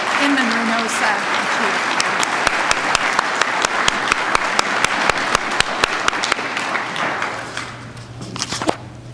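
An audience at a Town of Windsor Hometown Heroes ceremony applauds an honoree, sustained loud clapping from a crowd that tapers off toward the end.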